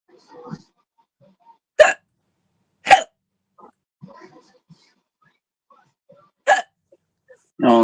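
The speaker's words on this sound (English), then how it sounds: "Oh no, who's got hiccups?" Several short, sharp hiccups come at uneven intervals, each a brief loud spasm, with faint breathy sounds between them and no talking.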